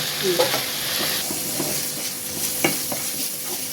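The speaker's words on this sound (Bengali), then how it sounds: "সুন্দর করে কষাই নিন" Prawns and taro leaves cooked with coconut, a traditional Barisal dish, being stirred and sautéed in a pan: a constant hiss of frying under scattered spatula scrapes and taps, with no speech.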